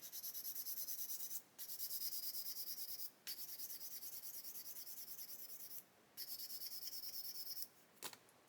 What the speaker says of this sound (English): Need to sand them away.